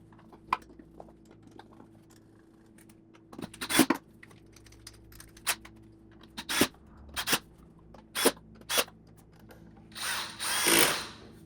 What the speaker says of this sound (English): Pop screws in. Do a gentle tightening with the screwdriver.